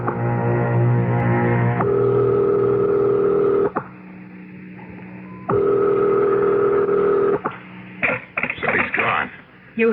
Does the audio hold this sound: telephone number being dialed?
yes